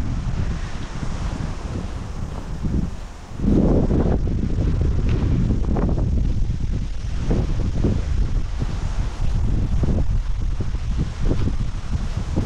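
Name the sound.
wind blowing outdoors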